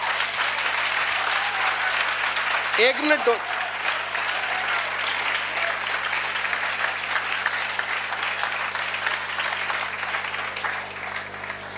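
Audience applause fills a classroom at a coaching centre, steady dense clapping throughout, with a voice briefly talking over it.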